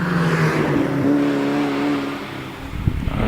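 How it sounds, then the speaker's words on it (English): A Mazda MX-5 race car at a hillclimb holds a steady engine note that climbs in pitch, then fades as it passes, with a brief clatter near the end. "Steve Perry coming through the S's in the Mazda"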